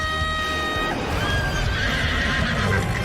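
A Pegasus neighs in an anime fight scene, a loud, clear whinny rising and trailing off over busy battle sound effects and dense background noise.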